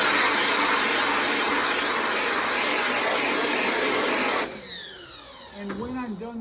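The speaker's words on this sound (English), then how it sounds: "So we'll continue to power wash the screen." A power washer sprays emulsion off a screen-printing screen, a loud steady hiss of water close by for several seconds, then it cuts off and a fainter whine and rattle trail away at the end.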